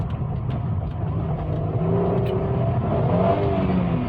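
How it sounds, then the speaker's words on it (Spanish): A naturally aspirated V6 in a Peugeot revving in first gear, a steady, fairly loud engine drone whose tone climbs slightly partway through, with no voices. "este V6 suena una delicia, o sea, es hermoso el sonido de esto"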